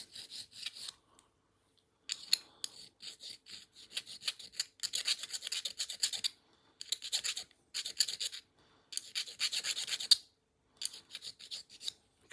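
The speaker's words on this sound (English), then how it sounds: "use my smaller file for this. This really fine one isn't great for stainless steel" Small metal file rasping against the stainless steel slide of a Tokyo Marui Sig Sauer P226 gas blowback airsoft pistol, close up, in repeated bursts of short scraping strokes separated by brief pauses, with no talking.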